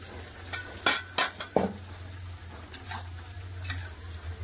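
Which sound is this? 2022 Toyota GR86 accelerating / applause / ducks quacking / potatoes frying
potatoes frying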